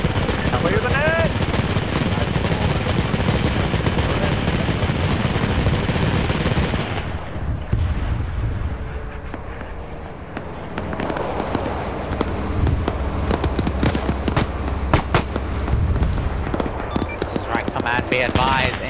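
Russian artillery rocket strike on a headquarters in a WW2 game, with a dense roar of explosions and crackling gunfire, a brief lull, then renewed rumbling blasts and shots, while voices talk throughout.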